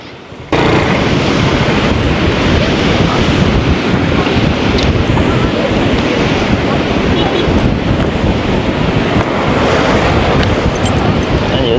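Sea waves surge and break continuously at Hawks Bay beach in Karachi, a loud, steady wash of surf heavily buffeted by wind noise from start to finish.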